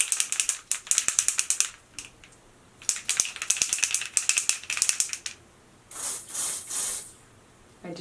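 A foundation spray bottle is shaken hard, giving bursts of fast close rattling clicks, followed near the end by two short hissing sprays.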